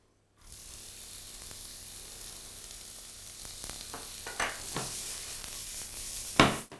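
Chopped onions sizzle in a splash of olive oil in a pan, a steady close frying hiss with a few louder crackles and pops toward the end, no talking.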